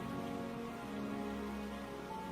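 Rain falls steadily at night as a soft, continuous hiss, faint and unbroken, with no voices.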